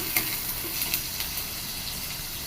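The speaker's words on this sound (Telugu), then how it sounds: "అలాగే టమాటా పేస్ట్ కూడా వేసి ఈ రెండు కొంచెం బాగా దగ్గరికి వేగిన దాకా బాగా నూనెలో వేపాలి" Tomato paste frying in oil for a mint-tomato biryani gives a steady, close sizzle with a few sharp crackles and pops scattered through it, and no voices.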